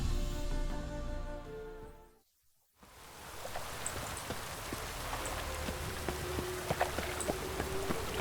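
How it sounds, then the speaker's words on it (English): Steady rain conjured by witches in the video game The Witcher 3, a dense hiss of falling drops that swells in after a brief silence and continues evenly with faint patters on surfaces. "Witches have conjured rain."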